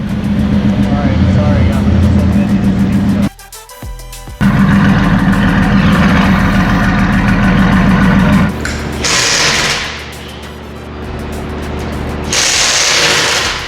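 A Mercedes-AMG GT S, fitted with VRP headers, runs its engine loud and steady with a strong low rumble, cuts out briefly, then returns with revving bursts and higher whooshes, inside a dyno room.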